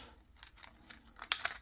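Scissors cut through plastic packaging close by, giving soft scattered crinkles and snips that build to a sharp crackling tear at the end, quiet overall.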